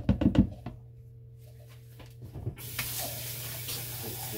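A tap turns on and water runs steadily into a sink to rinse a soap mold, preceded by a few knocks and handling clatter, close and moderately loud.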